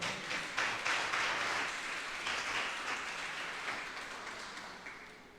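A church congregation applauds the Lord during a Spanish-language sermon on justification by faith, a broad, hissing roll of clapping that starts strong and gradually tapers off.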